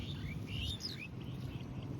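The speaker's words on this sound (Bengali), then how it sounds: "মাঠে আসলে কত পাখির ডাক শোনা যায়" Birds call in an open field, with a few short chirps and tweets ringing out over a low rumble of background noise for a couple of seconds.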